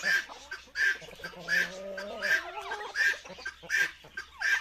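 Chickens cluck in a repeated series of sharp calls, and a rooster's drawn-out crow rises in the middle, all fairly close.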